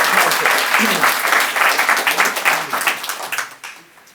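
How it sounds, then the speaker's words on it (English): A conference audience of parliamentarians from 15 countries, gathered in support of Tibet, breaks into loud, dense applause that holds steady and then thins out and fades near the end. "Give yourselves an applause for coming here."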